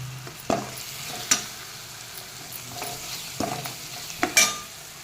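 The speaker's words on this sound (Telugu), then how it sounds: "కొంచెం సాల్ట్ వేసుకొని అటు ఇటు కదిపితే అడుగు పట్టకుండా ఆనియన్స్ బాగా వేగుతాయి" Onions with salt frying in a pan, an even sizzle under repeated scraping and knocking of a spoon, the stirring strokes landing irregularly every second or so at close range.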